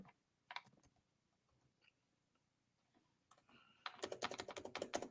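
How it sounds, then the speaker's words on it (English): Computer keyboard typing, a few isolated keystrokes early, then a quick run of dense, loud key clicks near the end, close and dry with no talking. "first we're gonna type in Isaiah"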